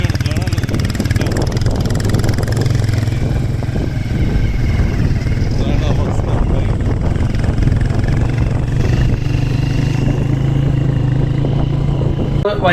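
Continuous close engine drone of a motorcycle ridden off-road through rural Tanzania, steady and unbroken for the whole stretch, with a person talking over the sound.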